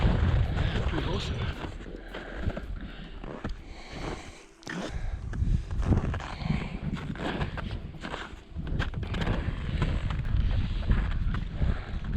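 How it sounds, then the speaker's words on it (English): Wind gusts on a breezy, chilly day on Everest between Camp 1 and Camp 2, a loud, steady roar buffeting the microphone, with footsteps crunching and a voice talking throughout. "It's a beautiful day, a little breezy, a little bit chilly in the wind."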